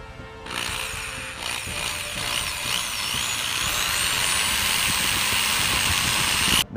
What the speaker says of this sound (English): the first thing you need to do is drill a hole in the center of your cap